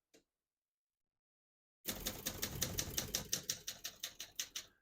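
Typing on a 1975 Olympia SM9 vintage portable typewriter: after a brief tap and a pause, a steady run of crisp key strikes clacks close and clear, about three per second, with no voices.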